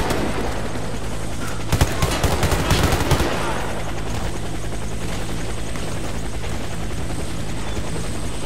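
Helicopter in the video game Warface, its steady rotor drone running throughout with a brief loud burst of gunfire in the middle, no talk over it.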